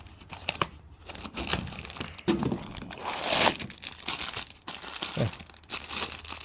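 Packaging for a new O2 sensor for a 1956 Dodge Regent is crinkled and torn open at close range, with uneven bursts of rustling and ripping as a sticker gets in the way; a single word is spoken briefly.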